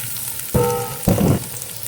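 Chorizo de Bilbao hits a hot pan for pinakbet, Ilocano style, giving two short bursts of close, loud sizzling with no talk.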